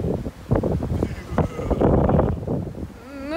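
Wind blowing on the open deck of the Romantika ferry from Riga to Stockholm at 10:30 pm, a steady rushing gust against the microphone heard under someone speaking throughout.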